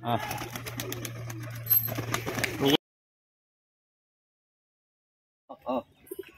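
A pigeon coos near the end after a long silence; before that, a busy stretch of voices and outdoor noise with a steady low hum.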